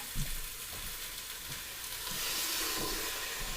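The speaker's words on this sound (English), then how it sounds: "So this is sauteing pretty well, and really you just want to brown it a little bit." Vegetables for Tuscan vegetable soup sauté in a pan, a continuous hiss of frying with a few soft stirring bumps, the sizzle swelling slightly toward the end, no talking.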